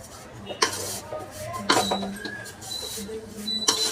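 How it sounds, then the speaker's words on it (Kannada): Semolina with coconut, ghee, raisins and cashews stirred and fried in a pan over medium heat, with a few spaced scrapes and clinks of a spoon against the pan over a soft background, close by. "ಇದು ಚೆನ್ನಾಗಿ ಒಂದು 5-10 ನಿಮಿಷ ಫ್ರೈ ಮಾಡ್ಕೋಬೇಕು"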